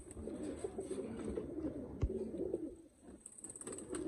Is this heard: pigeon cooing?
yes